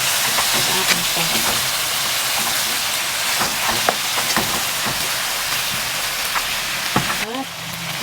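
Pork and tomatoes cooking in a pan for Filipino pork sinigang, giving a loud, steady broadband sizzle and hiss that runs the whole time, with a few crackles and clatters poking through near the end.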